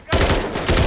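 A burst of rapid automatic gunfire in Call of Duty: Modern Warfare III, loud and close, with several sharp reports packed into under a second.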